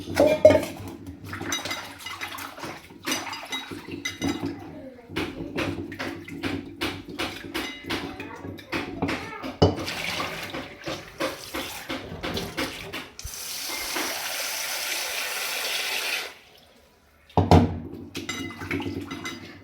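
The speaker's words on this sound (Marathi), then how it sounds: "आता कोथिंबीर पण निवडून झाली, धुवून घेते." Fresh coriander leaves washed under a running kitchen tap, with water splashing and trickling, leaves rustling and light clinks of a bowl, close, then a steady full stream before a brief pause.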